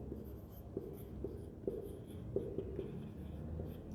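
Faint, repeated taps and scratches of chalk or marker on a board during a Class 10 maths lesson on quadratic polynomials, spaced irregularly over a low room hum.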